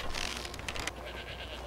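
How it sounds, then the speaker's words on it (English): Goat bleats from a creature in the fantasy video game Skyrim, a few short wavering calls in quick succession, fairly close and heard alone without talk. "Is that like a goat?"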